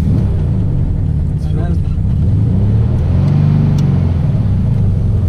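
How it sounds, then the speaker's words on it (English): Air-cooled engine of a 1965 VW Beetle revving, a steady loud low rumble that swells in pitch and then settles back, with a voice talking briefly over it. "now we have to do nice rev"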